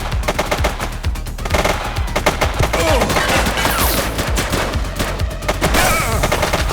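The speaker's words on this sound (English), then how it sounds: "She's shooting!" A suspect opens fire in the police video game The Precinct: dense, loud automatic gunfire rattles almost continuously, with overlapping shots and a steady heavy roar.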